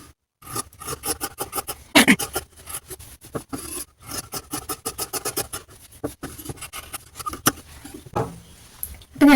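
Scissors cutting marked cloth for a frock nighty: a rapid series of short crisp rasping snips in quick bursts, close and fairly loud, with brief pauses between runs of cuts.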